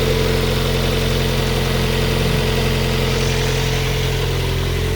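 A Mazda MX-5 NB engine idles steadily and up close, a smooth continuous drone with a low hum and no misses or ticking, running alone with no voices.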